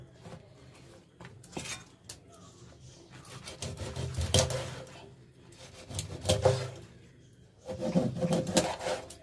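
A knife slices a fresh mackerel into three pieces, giving quiet, close scraping and chopping strokes in several short bursts against a cutting surface.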